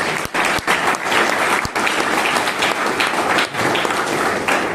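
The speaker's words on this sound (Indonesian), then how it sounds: "Mari kita tepuk tangan untuk panitia semua." A lecture-hall audience at a student electrical engineering event applauds the organizing committee with steady, dense clapping, punctuated by a few sharp louder claps and brief dips in volume.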